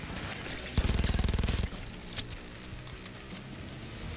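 Distant gunfire from combat below during a stealth mission in the video game Cyberpunk 2077: a rapid burst of shots, then scattered fainter pops and a murky background.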